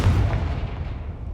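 The Confringo fire blast spell is cast in the Hogwarts Legacy video game, giving a single sharp, booming burst up close that quickly fades into a rumbling tail.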